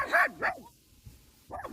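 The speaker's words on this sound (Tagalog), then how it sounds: "Dito may aso din mga tropa." A dog at the Ilug Kamalig campsite in Porac, Pampanga barks angrily with two quick, close, loud barks, then a brief lull before another bark starts.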